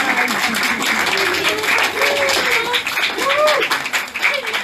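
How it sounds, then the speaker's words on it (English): Applause from a symposium audience fills the room with dense, steady clapping for several seconds, and some voices can be heard through it. "you're applauding yourself, you're applauding everybody in the room."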